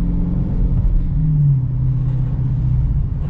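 A Dodge Challenger Scat Pack Widebody with a manual gearbox, driven in sport mode, gives off a steady low engine rumble and road drone from inside the cabin, loud and even throughout.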